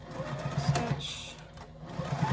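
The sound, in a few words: sewing machine stitching a placemat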